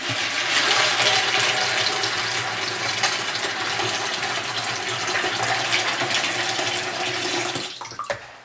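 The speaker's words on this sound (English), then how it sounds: "So filling up with water." Tap water gushes steadily into a bowl for soaking black-eyed peas, a loud continuous rushing that cuts off near the end with a few small clinks.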